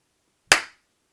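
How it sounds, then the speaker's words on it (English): A single sharp hand clap rings out in an otherwise silent room, decaying quickly. "clap test"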